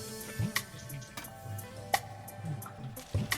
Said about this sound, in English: pour the yakhni